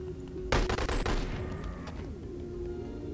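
AR rifle fire in the VR game Boneworks: a sudden close burst of rapid, loud shots starting about half a second in, then ringing echoes and scattered clatter that fade under a steady background hum.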